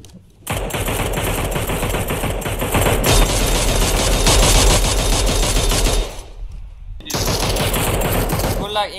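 Loud automatic weapon fire in PUBG Mobile on the Miramar map, with a continuous rapid burst lasting several seconds, a brief pause, then another sustained stream of shots.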